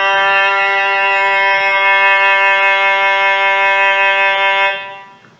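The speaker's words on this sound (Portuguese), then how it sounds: "Esse é o som da corda Sol." An electronic tuner sounds a reference tone for the violin G string: a single steady, loud buzzy note held for about five seconds, then fading out abruptly.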